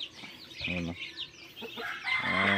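Chickens and a mother hen clucking nearby with a rooster crowing, several birds calling over each other in an outdoor provincial backyard farmyard, fairly close and clear.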